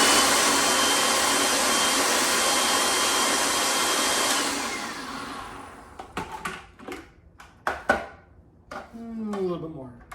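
An electric blender whirs loudly and steadily for about four seconds while mixing for a homemade Neapolitan pizza, then cuts off, leaving a few clinks and handling knocks.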